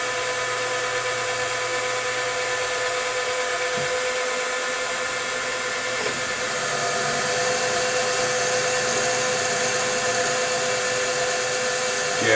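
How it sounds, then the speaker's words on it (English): A drill cuts steadily into metal stock on a lathe setup, running as a continuous high-pitched whine with a slight shift in tone partway through, loud and close with no talking over it. "This stuff actually drills really nice."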